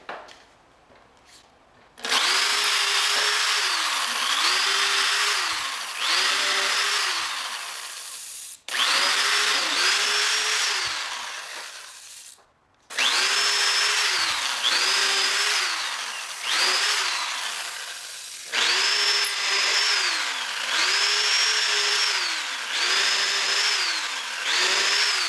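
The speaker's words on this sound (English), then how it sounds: "So when you drill your holes, start" Power drill boring holes in wood while building a DIY workbench, running in several long bursts with rising and falling pitch, separated by short pauses, loud and close with no talk.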